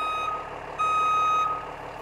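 Reversing beeps from a 2024 New Aire truck, a loud, close, steady electronic tone sounding twice, with a short gap between, over a low engine idle.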